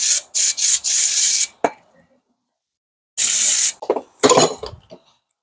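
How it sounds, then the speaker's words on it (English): Brake cleaner sprayed onto the rear brake of an Infiniti QX50: loud, close aerosol hisses in several short blasts, then a longer spray and brief rattles of parts. "might as well spray some brake cleaner"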